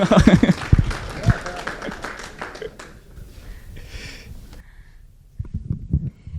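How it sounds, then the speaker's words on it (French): A church congregation applauds during a worship service, with loud clapping and voices at first that fade into a quieter stretch before sound picks up again near the end. "Fait que, on l'applaudit."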